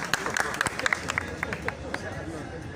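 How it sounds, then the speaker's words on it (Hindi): Scattered claps and a short burst of applause break out from the audience at a union rally at a head office, sharp and uneven amid crowd murmur and a speaker's voice. "गौतम भाई, आपकी ताली।"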